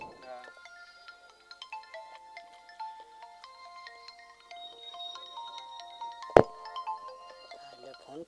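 A phone ringtone playing a tinkling repeated melody, fairly faint, during a village cricket match, with a sharp knock partway through and a commentator's voice under it.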